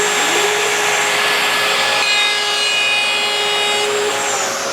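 A trim router cuts along hardwood edge banding about 5 millimetres thick that has been glued onto a panel. It gives a loud, steady high-pitched whine with a cutting rasp, running continuously and close by with no talking.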